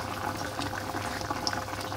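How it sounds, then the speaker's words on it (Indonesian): Beef and potato stew broth boiling in a pot, a close, continuous bubbling and popping with small gurgles, steady and alone without speech. "Tinggal udah mendidih-mendidih teman-teman"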